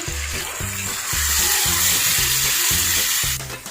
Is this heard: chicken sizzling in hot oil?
yes